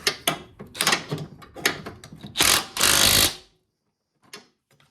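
Power tool tightening engine mount bolts on a Nissan Versa Note, a series of loud close bursts of rattling whirring, the last and longest about a second, followed by quiet with a few faint clicks.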